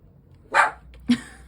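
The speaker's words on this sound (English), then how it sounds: "Sorry, you guys, that is my doggy." Lucy, a pet dog, gives two short, sharp barks close by, the second briefer and lower, with quiet room tone between and no talking.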